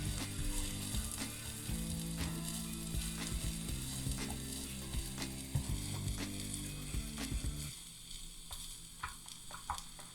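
Cooked ground beef sizzles in a skillet as it is mixed, with a constant frying hiss and occasional scraping stir strokes, close and soft, the sizzle thinning toward the end.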